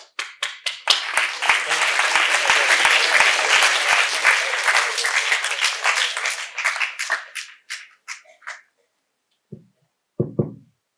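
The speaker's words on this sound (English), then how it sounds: "Clap." A lecture audience at a college program in Anand, Gujarat bursts into loud, dense clapping that holds steady for several seconds, then thins into scattered individual claps and a few final isolated ones before falling silent.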